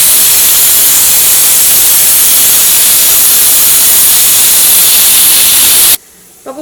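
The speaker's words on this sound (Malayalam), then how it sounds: "ഇപ്പോൾ കുക്കറിൻ്റെ ഉള്ളിൽ നിന്ന് ഒരു വിസിൽ വന്നിട്ടുണ്ട്" A pressure cooker whistle vents steam in a loud, steady hiss that runs unbroken for several seconds before cutting off abruptly, leaving quiet room tone.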